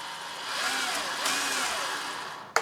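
An RC truck's electric motor whines as the throttle opens and it drives forward, a faint, rising and falling high-pitched hum that ends in a sharp click.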